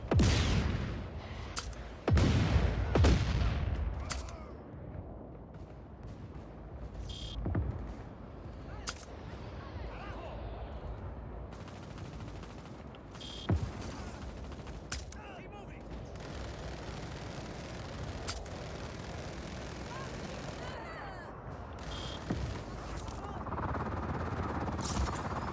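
Gunfire and heavy explosions in the video game Just Cause 4, with a cluster of loud blasts and booms early on, then sparse distant shots over a rumbling background while a voice talks.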